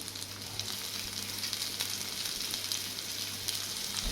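Moringa drumstick pieces frying with half-cooked onions for a sour stew, giving a steady, even sizzle with a faint hiss throughout, fairly quiet and unbroken, with no voices.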